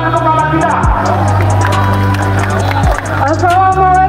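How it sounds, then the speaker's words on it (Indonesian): A crowd at a political rally in Indonesia breaks into applause and cheering for a speaker, a dense roar of clapping and voices that carries on throughout, with an amplified voice briefly cutting in. "Beri tepuk tangan untuk kawan kita."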